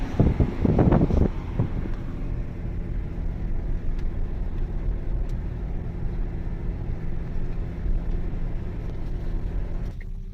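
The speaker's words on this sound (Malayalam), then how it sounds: "ഇവിടെ തന്നെ തണുത്ത കാറ്റ്" Cold wind blowing at a high viewpoint about 1,814 metres above sea level, a steady low buffeting rumble across the microphone from start to finish, with a brief louder gust near the beginning.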